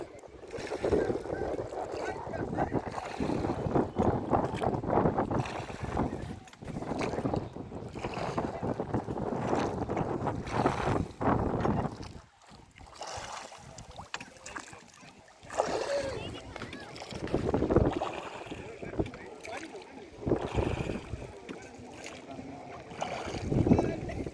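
Boat ride on Nakki Lake, Mount Abu, on a small plain boat, with steady wind buffeting the microphone and occasional splashes, while people talk throughout.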